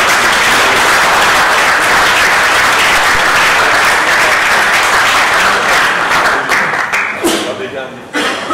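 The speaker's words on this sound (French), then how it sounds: "Il faut applaudir." An audience applauds at a ceremony as a transport company is called forward, a dense, loud and sustained burst of clapping from a large crowd that thins and trails off at the close.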